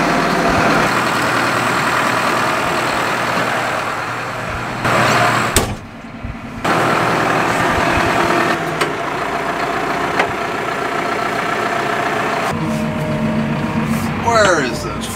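A small Challenger tractor idles close by on a farm, its steady diesel rumble running throughout, broken by a door clunk and a brief drop in level, with metallic clanks and a voice near the end.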